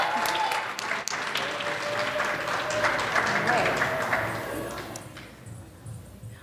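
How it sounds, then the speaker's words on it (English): Crowd at a student open mic night claps steadily after a dance performance, sustained applause with a voice speaking over it, fading toward the end. "Another round of applause for Ashley Prasad."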